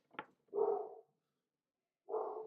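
A dog gives two short, muffled barks about a second and a half apart, preceded by a brief click, with silence between and no talking.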